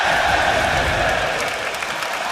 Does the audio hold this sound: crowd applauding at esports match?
yes